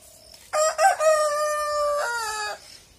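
A rooster crows nearby in a village hen house in the Sundarbans, one loud, drawn-out call with a clear tonal middle and a rough trailing end, preceded by a faint cluck.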